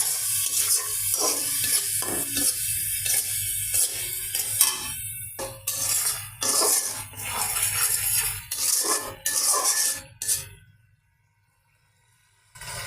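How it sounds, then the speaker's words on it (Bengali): Fish sautés in a pan, a close hissing sizzle broken by bursts of stirring and spattering that cut off abruptly near the end, leaving silence. "ভালো করে মাছটা কিছুক্ষণ কষিয়ে নেব"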